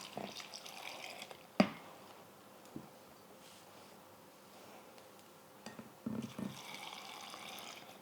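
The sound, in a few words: salt water being poured into a jar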